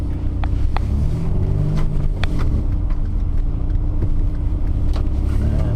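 A car creeps slowly forward over winter snow, heard from inside as a steady low engine and tyre rumble with a few faint clicks, with no one talking.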